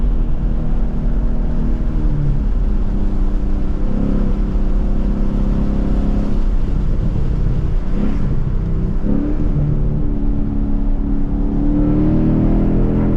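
A 2020 Mustang GT's engine drones steadily while driving the winding Route 129 up Blood Mountain, with revs rising and falling through turns, loud and continuous inside the car.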